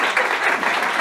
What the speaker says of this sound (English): Give my helpers a round of applause.